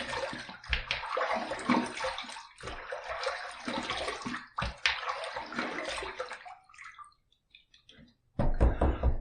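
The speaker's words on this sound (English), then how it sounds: "All right, let's rinse." Tap water runs while a stainless steel safety razor is rinsed, splashing in close, uneven bursts, then stops for about a second before gushing again.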